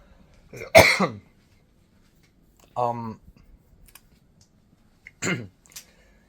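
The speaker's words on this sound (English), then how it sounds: "this cough is really distracting" A person coughs three separate times with long quiet gaps between, each cough a short harsh burst, with a hint of throat clearing.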